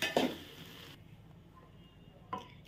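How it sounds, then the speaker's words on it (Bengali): Fried winter vegetables stirred into shyama rice in a pot for khichuri: a spoon scrapes and clinks against the metal pot at the start, followed by soft stirring and another clink near the end, quiet and close. "সবজিগুলো চালের সাথে ভালো করে আমি মিশিয়ে নেব"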